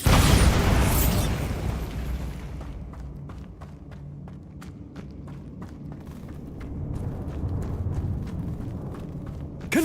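A Bombarda blast spell detonates in a Harry Potter video game, a loud broadband boom in the first seconds that decays into rumbling debris and scattered sharp crackles and pops, with another swell of noise near the end.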